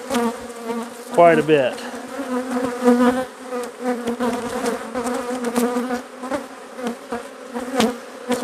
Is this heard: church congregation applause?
no